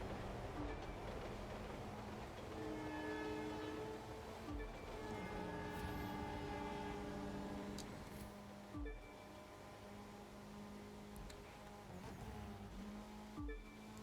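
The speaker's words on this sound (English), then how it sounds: "Looks like we're racing the train." A train rolls by in The Crew 2 racing game, its sustained horn-like tones rising and falling over a steady engine rumble, with occasional sharp clicks and a softer drone later.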